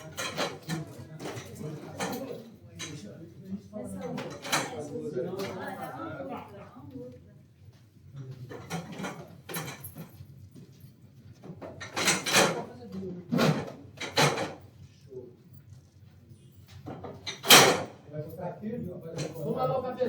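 Folding chairs collected and stacked after a technical forum meeting in Rio de Janeiro, giving sharp knocks and clacks scattered irregularly through the clip, some loud and close, with people talking throughout.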